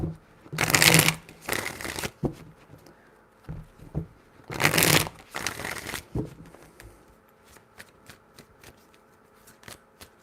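Tarot cards shuffled close by in two bursts of quick riffling, each a pair of rapid fluttering riffles, with softer card taps and handling sounds in between, no talking.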